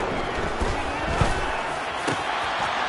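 Home crowd roaring at a football game, a dense, steady wash of many voices with a few sharper claps and shouts rising out of it.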